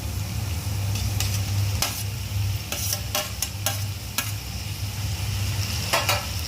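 Chopped tomatoes being stirred into chicken in a pan, a low simmering sizzle under repeated sharp spatula scrapes and clicks, close and without talk.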